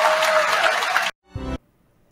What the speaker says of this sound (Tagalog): umabot sa 124 na palakpak ang nakuha ng Pangulong Bongbong Marcos sa kanyang ika-4 na sona